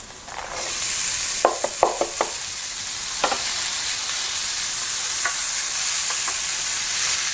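Cooked beans with onions heated and mashed in a hot pan, a steady loud sizzle with a handful of sharp utensil scrapes and taps on the pan, close up and no talking.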